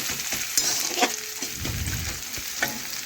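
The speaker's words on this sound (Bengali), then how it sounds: "এইভাবে নাড়াচাড়া করে ভেজে নিয়ে" Bottle gourd leaves being stirred and fried in a pan, a dense close sizzle with a few scraping strokes and light clatters of the spatula over about three seconds.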